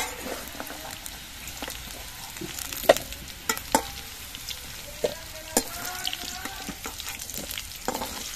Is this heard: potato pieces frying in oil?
yes